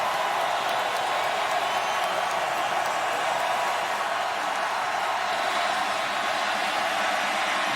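A home crowd at a New Orleans Saints Monday Night Football game against the Philadelphia Eagles in 2012 roars in a dense, unbroken wash of stadium noise, steady and loud with no distinct voices.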